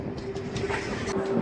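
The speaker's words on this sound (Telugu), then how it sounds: "గద్వాల్ జంక్షన్కి మన ట్రైన్ చేరుకుంది" A MEMU train rolls into Gadwal Junction with a continuous rumble and faint rail clatter, a thin steady squeal running through it, heard from on board.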